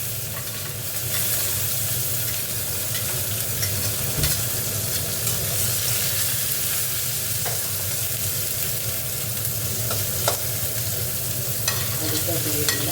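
Onion and nigella seeds fry in a pan with a loud, continuous crackling sizzle, plus scattered stirring clicks, close up and steady throughout, with no talk.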